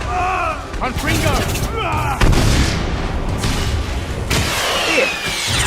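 Explosive Confringo spell blasts from the Harry Potter and the Deathly Hallows video game, several loud booming bursts in quick succession amid crackling debris, with voices shouting over them.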